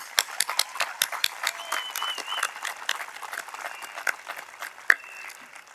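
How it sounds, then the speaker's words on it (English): Graduation audience at the California Military Institute applauding, sparse individual claps at first building into scattered, uneven clapping from a moderate-sized crowd, fairly close and lively throughout. "Please give them a round of applause for helping us today."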